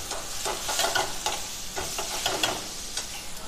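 Tomatoes fry with ginger garlic paste in a pan, giving a soft, steady sizzle with light stirring scrapes throughout.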